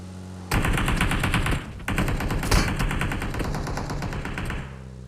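Sustained automatic gunfire in a video game: dense rapid bursts with a short pause partway, loud and close, with no talk.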